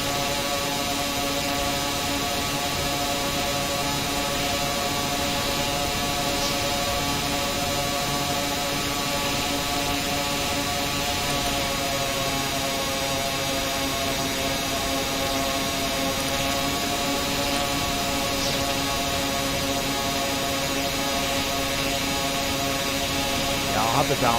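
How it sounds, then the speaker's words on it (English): A buzzing vehicle engine in Stormworks hums at a steady, lawnmower-like pitch, loud and unbroken with stable tonal whine throughout, no one speaking. "That sounds like a lawnmower, doesn't it?"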